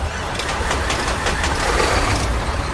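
Mack Pinnacle truck engine in American Truck Simulator cranking and catching into a deep, steady rumble, loud and continuous with a dense low throb throughout.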